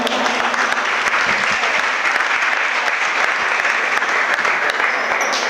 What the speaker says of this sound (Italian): Ancora un applauso dunque ai direttori di gara della sezione di Vicenza.